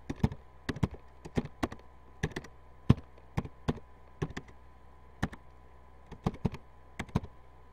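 Command typed on a computer keyboard in Windows Command Prompt while formatting a USB drive to NTFS: a series of sharp, close key clicks in uneven bursts over a low steady hum, with no speech.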